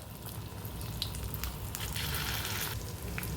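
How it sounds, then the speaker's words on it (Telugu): Ground chutney with asafoetida fries in hot tempering oil, giving a steady, soft, close-up sizzle with small crackles and squishy stirring sounds and no voices. "ఈ చట్నీ మొత్తం ఆయిల్లో బాగా ఫ్రై చేసుకోవాలి"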